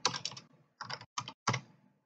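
Typing on a computer keyboard in four quick bursts of clattering keystrokes separated by short pauses, close and fairly quiet, with no voices.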